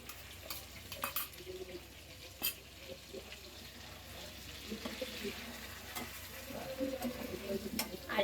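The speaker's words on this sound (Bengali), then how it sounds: "চিকেন গুলা দিয়ে কিছুক্ষণ আমি ভাজবো।" Chicken and beaten sour yogurt fry in a pan as a spatula stirs them, giving intermittent scrapes and clinks over a low sizzle, with some faint background sounds.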